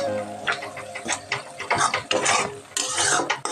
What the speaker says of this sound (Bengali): লো ফ্লেমে আমি এগুলোকে কষিয়ে নিচ্ছি।